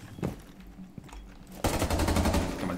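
Gunfire in the Rainbow Six Siege video game: after a quiet stretch with a couple of isolated thumps and footsteps, a loud, rapid burst of automatic fire erupts and rattles on continuously.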